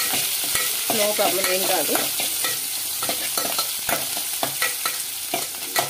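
Curry leaves, onions and green chillies fry in oil with fenugreek seeds, a steady sizzle broken by repeated scrapes and knocks of a spoon stirring the pan, with a brief spoken remark near the start.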